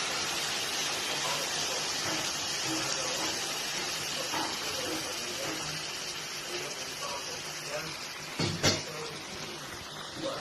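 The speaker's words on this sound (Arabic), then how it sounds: "هنزل بعد كده عليهم بميه سخنه" Hot water poured into a pot of basmati rice with broth, a steady splashing gush that fades slightly, ending with a couple of clunks near the end.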